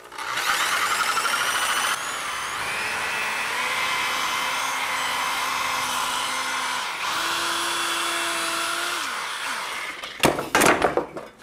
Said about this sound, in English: Bet my power shears will fit.